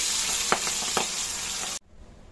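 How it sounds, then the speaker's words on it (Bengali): Pieces of boal fish frying in mustard oil in a kadai, a continuous bright sizzle with a couple of soft clinks from turning the fish, cutting off abruptly near the end. "তো মাছগুলো একটু ভালো করেই ভাজতে হবে।"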